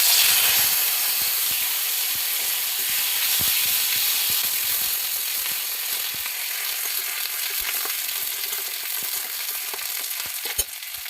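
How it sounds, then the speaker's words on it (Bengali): Neem leaves frying in hot oil give a steady, loud hissing sizzle up close, dotted with small pops and a few light spatula taps, with no voices. "এবার এই তেলে একটু নিম পাতা ভেজে নেব।"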